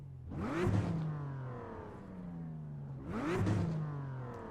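A short-wheelbase race car with minimal aero, driven in iRacing, rasps past in two loud revving surges, its engine note sweeping up sharply and then holding steady with no talk.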